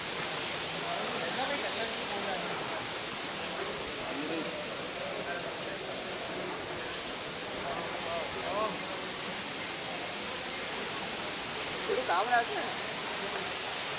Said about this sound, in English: We have a beautiful waterfalls here in between the caves.